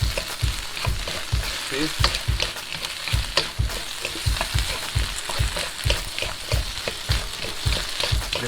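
Beef stir fry hisses loudly in a very hot pan with green onions and sweet peppers, as rhythmic tossing and scraping pulses through the close, continuous sizzle. A voice speaks one brief word.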